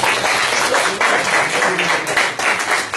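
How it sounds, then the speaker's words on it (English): Classroom of students applauding during a school lecture, dense clapping sustained throughout with a voice speaking over it. "Give them a round of applause for that."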